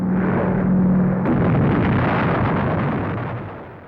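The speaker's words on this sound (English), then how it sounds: "From an escorted B-29 is loosed the greatest explosion ever caused by man." Archival film of an atomic bomb dropped from a B-29 explodes with a loud, deep rumbling blast that swells and slowly fades, preceded by a brief low hum.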